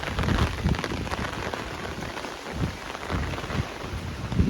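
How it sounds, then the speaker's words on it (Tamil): Steady storm rain and gusting wind roar together in Jaffna, a dense continuous wash of noise with low rumbling swells throughout; no voices. "இங்கே பார்த்தீங்கன்னு சொன்னால் காற்று சரியாக அடிக்குது"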